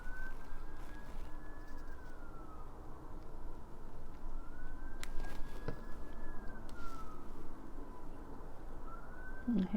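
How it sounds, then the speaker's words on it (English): Distant emergency vehicle sirens wail in slow rising and falling sweeps near a motorway, faint and far off beneath steady background noise. "And hear the sirens."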